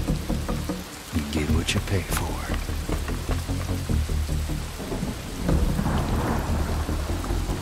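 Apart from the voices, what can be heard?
thunderstorm with rain in video game Desperados 3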